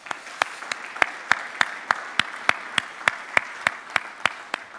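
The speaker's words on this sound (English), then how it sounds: "Big round of applause for those guys." Applause from a conference audience for the panelists and speakers, a steady patter of many hands with sharp regular claps standing out, moderately loud and alone without talk.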